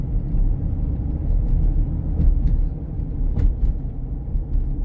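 A lifted 2018 Ford F-250 Super Duty Lariat pickup truck drives along with a steady, deep engine and road rumble, heard continuously from inside the cab with no talking.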